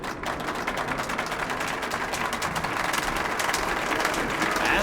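A crowd applauds an exhibition show at the Bolshoi in the video game Metro: Last Light Redux, with dense continuous clapping at an even level throughout.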